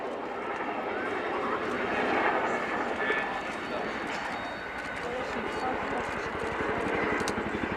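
Boeing military transport aircraft flying a display at the RIAT 2018 airshow at Fairford, its engine roar loud, steady and broadband throughout, with a public-address commentator's voice running underneath.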